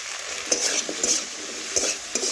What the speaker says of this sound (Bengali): এটাও ভালোভাবে ভেন্ডির সাথে নাড়াচাড়া করে মিশিয়ে নেব।